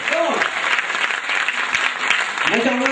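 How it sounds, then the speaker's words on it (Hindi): Loud, sustained applause from an audience at a felicitation event in India, steady clapping that fills the whole stretch without voices over it. "रितु जी के जोरदार तालियां वहां पे रखें"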